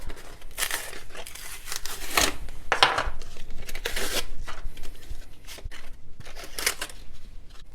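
A brand-new pair of orange-handled Fiskars scissors opened and closed repeatedly, crisp metallic snips and scraping blade swishes in an uneven rhythm, close up, no voices.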